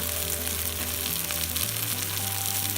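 Red, yellow and green peppers with onion sizzle loudly in a hot pan for a quick chilli chicken stir fry, a continuous close crackling hiss with a low hum underneath.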